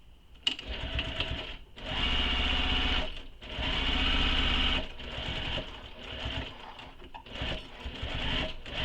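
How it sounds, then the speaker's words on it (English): A sewing machine stitches a curved backpack seam, basting it in place: loud mechanical whirring in several bursts of one to three seconds separated by short stops, close by, with no talking. "And I'm going to sew from the back side so I can see where the curve is."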